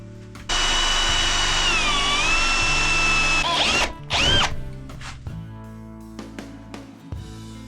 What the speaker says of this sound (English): We're gonna drill this out and then use this piece as our template.